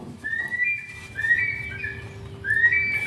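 A solar-powered bird repeller for rice-field sparrows plays a recorded eagle call through its speaker: three piercing, whistled cries in a row, each sliding in pitch, loud and clear over a low background hum.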